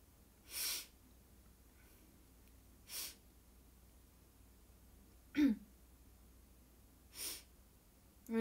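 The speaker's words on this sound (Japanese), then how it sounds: "ちょっと鼻すすっちゃって" A person sniffling their nose in four or five short, close, breathy snorts spaced a couple of seconds apart in a quiet room.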